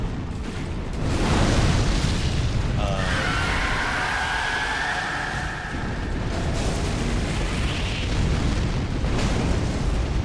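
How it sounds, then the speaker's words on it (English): Demon Prince unleashing a huge fire beam in Dark Souls, a sustained roaring blast with rushing, crackling texture and a rising whine, loud and continuous for the whole stretch. "So he did that big fire beam, laser beam thing"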